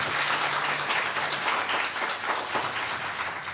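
Audience at a university research week closing ceremony applauding to welcome a speaker, a dense sustained wash of many hands clapping at once, fairly close and steady with no talk.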